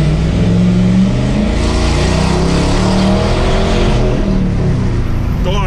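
A 2014 Chevrolet Camaro V8 engine revs loudly up close, a deep steady growl that rises and falls in pitch across several throttle blips.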